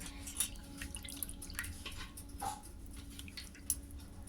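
Warm water drips and splashes softly over a Laddu Gopal idol during a bath, with small intermittent trickles and drops, faint and close, with no talking.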